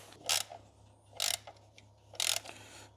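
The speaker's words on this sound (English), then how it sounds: "We need to screw 2 screws more in." Screws being driven into the stock air filter housing of a Dodge Challenger SRT with a 6.2 V8 supercharged HEMI during a K&N filter swap, heard as three close, sharp bursts of ratcheting mechanical clicks separated by short pauses.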